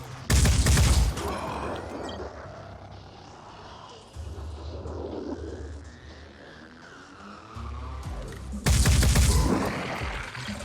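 Video game gunfire with free-aim shooting, two loud bursts of rapid fire at the start and near the end, separated by a quieter stretch of rumbling game ambience.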